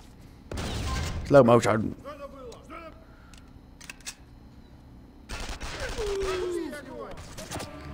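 Gunfire in the stealth shooter video game Counterspy, a rapid burst of game-style shots near the start, then more shot and effect sounds later, with a short spoken line partway through.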